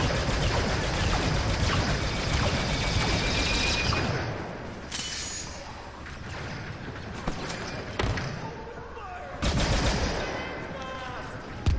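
Rapid blaster-style gunfire and impacts in Star Wars Battlefront 2, dense bursts through the first few seconds, then sparser shots and thumps mixed with game noise.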